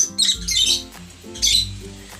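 Chickens squawking loudly and close by in two harsh bursts with a short gap between, with no talking.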